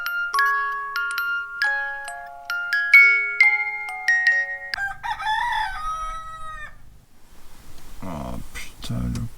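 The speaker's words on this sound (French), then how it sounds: "Oh putain le coq." A rooster near a parked camper van crows loudly and repeatedly, its long drawn calls rising and falling close by, followed by clucking and rustling.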